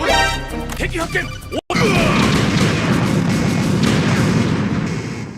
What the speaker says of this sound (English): The explosion is different in the demo.